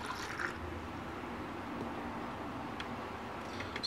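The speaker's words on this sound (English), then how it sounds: "pour this back into the container" Silver cleaning solution for a belt buckle being poured back into its container, a steady liquid splash and trickle running throughout at moderate level.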